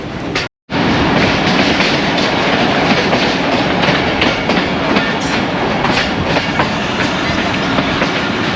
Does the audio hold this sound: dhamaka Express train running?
yes